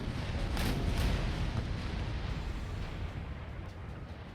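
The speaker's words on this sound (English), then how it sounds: "I think we'll be just fine with our cannon" Cannon artillery fire in a Poland-Lithuania battle in Empire: Total War with Darthmod, heard as a loud, continuous rumble of overlapping heavy booms that tapers off slightly toward the end.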